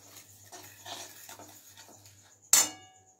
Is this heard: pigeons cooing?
no